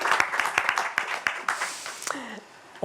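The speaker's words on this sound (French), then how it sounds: "On peut applaudir aussi." Audience members at a French word competition final clap in a loose, fairly sparse rhythm of distinct hand claps that thins out, with a voice speaking as it fades.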